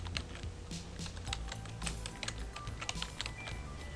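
Rapid, quiet clicking of keys on a computer keyboard as a book title is typed into a library catalog search field, irregular taps with small bursts and pauses.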